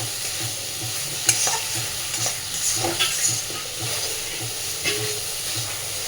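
Soaked masoor dal is stirred into a hot frying pan, with a spatula scraping in a regular back-and-forth rhythm over a constant hissing sizzle. The sound is close, and no voices are heard.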